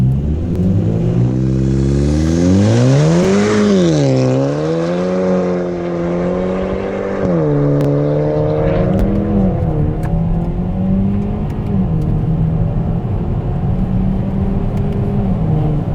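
A tuned 240 whp 2018 Hyundai Elantra Sport with a 7-speed dual-clutch gearbox, heard from inside the cabin as it accelerates, engine droning loudly and climbing in pitch through several upshifts with brief drops between gears.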